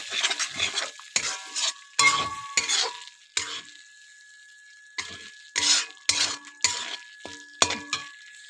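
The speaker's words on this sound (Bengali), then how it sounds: "হলুদ দিয়ে নাড়াচাড়া করে দেব।" A spoon stirs spice paste with homemade turmeric in a pan, giving bursts of scraping and clinking against the metal with short pauses between, under a light sizzle.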